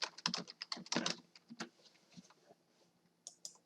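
Typing on a computer keyboard while entering data into an Excel spreadsheet: bursts of quick, close key clicks that thin out into a few scattered taps, with no talking.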